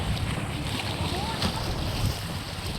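A pumpboat engine drones at sea alongside steady wind buffeting the microphone and a broad wash of water noise, continuous and fairly loud throughout.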